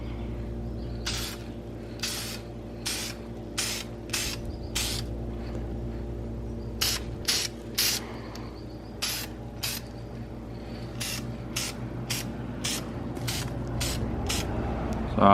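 Short hissing bursts of aerosol spray paint applied lightly over primed brake calipers, about a dozen close spurts in uneven rhythm, each a second or less, over a steady low hum, no talking.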